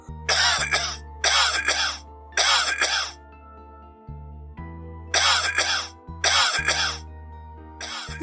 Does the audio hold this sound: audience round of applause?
no